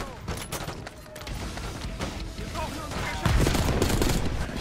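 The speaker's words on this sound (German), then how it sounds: "So, dann nochmal direkt daneben schießen hier." Rapid gunfire bursts and explosions fill a Call of Duty: Black Ops 6 firefight, with steady overlapping shots, a heavier blast near the end and game sound effects throughout.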